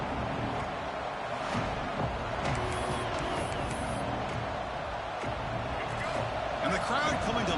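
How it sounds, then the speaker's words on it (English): Football stadium crowd at a Michigan game swelling into a loud, sustained roar during a third-down defensive stand in the red zone, with broadband noise filling throughout and a commentator talking over it. "the crowd coming to life here"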